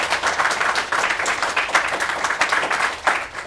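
An audience claps for a bodybuilder who trains at National Fitness Center, producing dense, continuous applause of many hands at moderate distance, with little talk.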